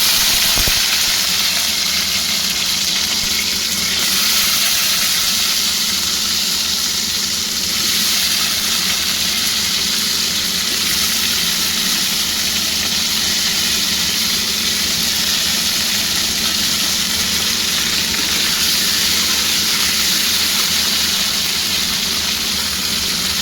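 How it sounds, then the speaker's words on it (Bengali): Cauliflower and potato pieces frying in hot salted oil, a loud, dense, unbroken hiss of sizzling held steady up close, with no voices. "এবার আমি এই ফুলকপি আর আলুটা ছেড়ে ভাজবো।"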